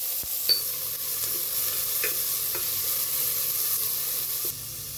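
Capsicum stir-fried over a high flame for vegetable fried rice gives a steady, close sizzling hiss, with a few sharp scrapes and clicks of stirring throughout.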